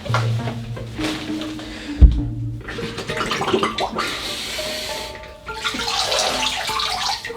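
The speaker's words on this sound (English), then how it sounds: "I'm gonna do a head plunge." Water sloshes and splashes as a head plunges into an ice bath, with a sharp splash of entry followed by rushing and dripping water, close and loud.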